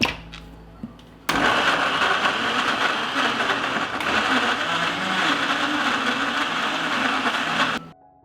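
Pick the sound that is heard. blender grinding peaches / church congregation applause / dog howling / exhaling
blender grinding peaches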